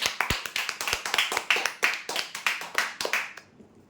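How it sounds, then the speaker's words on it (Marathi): An audience claps for a prize winner at a lottery draw, a brisk run of roughly a dozen sharp, evenly spaced claps that fade out near the end. "जोरदार टाळ्या द्या यासाठी."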